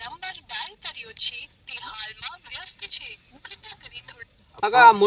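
A thin, tinny voice talks in short bursts as if over a telephone line, with a louder burst of sound at the end.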